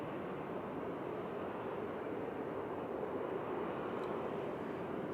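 Airbus A321neo jet arriving at Manchester Airport from Istanbul, a steady broadband engine roar that holds loud and constant throughout with no voices.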